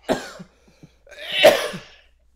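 A short burst like a sneeze or cough, then a louder second explosive blast with a drawn-out exhale, close and alone.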